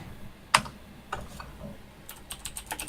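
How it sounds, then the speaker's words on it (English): Computer keyboard typing during a Guild Wars 2 PvP esports tournament broadcast: one sharp key clack, then a loose run of light, quick keystrokes, fairly quiet and close. "I'm just typing"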